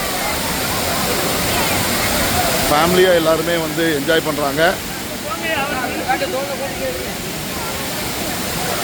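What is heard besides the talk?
waterfall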